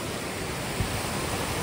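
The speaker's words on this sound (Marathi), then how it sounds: "मस्त धबधबा पण आहे" Steady, dense roar of rushing water from the Devkund waterfall in monsoon, a broad even wash with no gaps and no voices.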